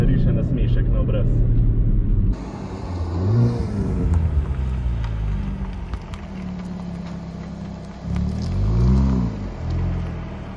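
A Hyundai i30N Performance engine revs while driving on winding roads, rising and falling in pitch through several throttle pulls, loud and close, with someone talking over parts of it.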